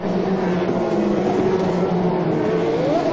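IndyCar race cars lap the Richmond oval during the 2002 SunTrust Indy Challenge, a continuous loud engine drone with a rising pitch near the end as one car nears, and no one talking.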